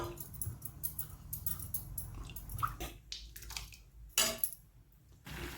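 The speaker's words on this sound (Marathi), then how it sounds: "गरम पाणी आपण ह्याच्यात थोडंसं ओतत आहोत पहा" Hot water is poured into a pot of amti curry made with garlic and coconut, giving uneven gurgling splashes and sloshes in short bursts, with a sharp pour surge near the end, close and fairly quiet.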